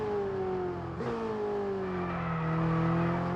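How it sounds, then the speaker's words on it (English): A Ferrari racing car in F1 2022 revs hard, its steady engine whine climbing and shifting pitch with a brief gear-change dip, loud and close with no talk. "If you listen to the Ferrari."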